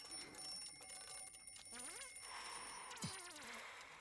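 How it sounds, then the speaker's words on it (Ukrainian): An alarm clock rings inside a video game puzzle, a steady electronic ringing tone held under a person's talking, joined by brief sliding game effects partway through, at moderate level. "Може будильником?"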